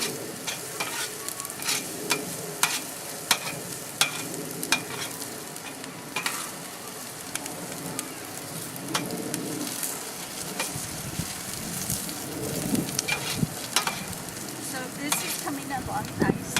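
Ingredients for paella fry and sizzle steadily in a paella pan, with a dense continuous crackle broken by frequent sharp pops and stirring clinks, close and fairly loud throughout, no voices.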